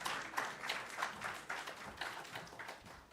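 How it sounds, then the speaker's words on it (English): Audience applause at a conference hall in Kenya as a speaker walks to the podium, a steady rippling clatter of many hands with recurring louder swells, moderately distant and continuous throughout. "Continue clapping until she arrives."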